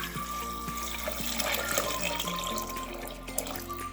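About one and a half litres of water is poured into a pot of pine cones, a close, splashing trickle with small knocks and clinks from the pot throughout.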